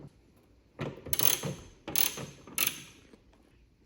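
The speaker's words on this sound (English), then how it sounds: "just get a little extension and a ratchet, and we're gonna go ahead and remove these 3 bolts" A ratchet on an extension clicks in three quick bursts, close and clear, while loosening Torx T30 bolts on a Porsche 911 997 during a center brake light replacement.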